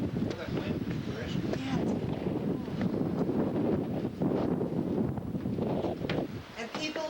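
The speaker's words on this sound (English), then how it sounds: "Well, that wind, Chris." Wind gusts steadily around a lighthouse, a loud continuous rushing buffeting the microphone throughout, with swells and dips in strength and voices faintly mixed in.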